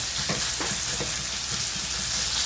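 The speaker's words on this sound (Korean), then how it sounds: "이 닭가슴살을 뜨거운 철판 위에 넣는데 그냥 넣고 볶는 게 아니라" Chicken breast fries on a hot, coated griddle pan, spread flat like a pancake, giving a loud, steady, continuous sizzle with faint stirring taps and no talk.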